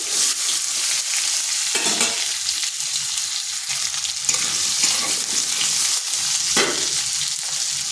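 Potatoes with salt and turmeric frying under a lid over slow-to-medium heat, a constant close sizzle with a few soft clatters of the pan, no voices.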